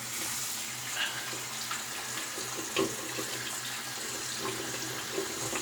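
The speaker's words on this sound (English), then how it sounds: "Get some cool water going." Cool water runs from a tap into a sink for rinsing during soap making, a steady close splashing stream with a few small clinks and knocks over the flow.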